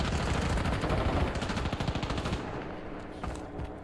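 Rapid bursts of automatic gunfire in a shooting video game, loud and sustained, with dense rattling volleys for about two seconds before thinning into scattered shots.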